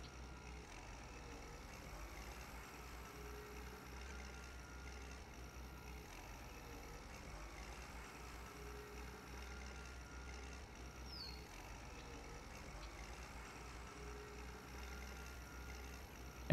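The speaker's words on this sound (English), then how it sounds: "it's just a little hard to control the tractor bouncing around so bad" A tractor in Farm Expert 2017 drones steadily while plowing a field, a low continuous engine rumble with faint mechanical rattles, unbroken and alone for the whole stretch.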